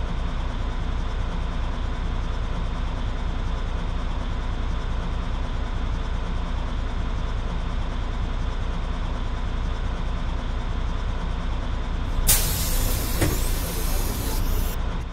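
A bus in the Offroad Bus Sim mobile driving game runs with a steady, loud engine drone, then a sharp hiss like an air brake release breaks in near the end.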